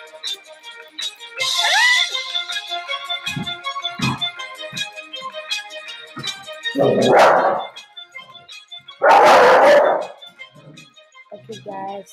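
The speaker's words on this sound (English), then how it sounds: "sorry, that was my dog." A dog barks in two loud, close bursts, with whining yelps earlier. It breaks into the quieter running sounds of Run 3 gameplay.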